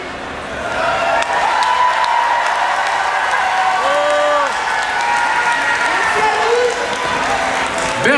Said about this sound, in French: on applaudit encore ce message des intermittents et des précaires